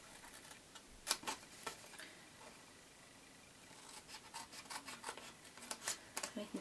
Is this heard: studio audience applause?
no